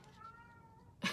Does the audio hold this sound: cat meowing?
yes